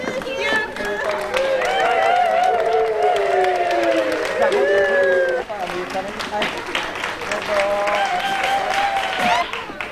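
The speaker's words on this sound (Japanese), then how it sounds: "皆さん拍手でね、" Audience applause greets the prize winners of a slalom competition at a fan club event, steady dense clapping mixed with cheering voices and a loud amplified voice talking over it throughout.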